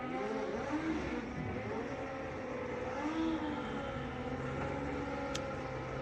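Kawasaki drag racing motorcycles at a drag strip event sound a continuous, steady engine roar with shifting, wavering pitch, heard at moderate distance with a dense, constant rumble and no voices.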